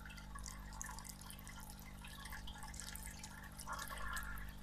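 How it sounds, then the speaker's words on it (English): Water trickles and drips steadily through an aquaponics bell siphon in an indoor garden, a faint, continuous flow with no voices. "you can actually almost start hearing the water going through the middle"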